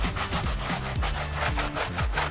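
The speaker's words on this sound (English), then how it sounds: "I just kind of soak my brush, my hard wire brush, and then just kind of scrub that rubber" A hard wire brush scrubs tire rubber in quick, rhythmic back-and-forth strokes, a loud close scratchy rasping that repeats steadily with no voices.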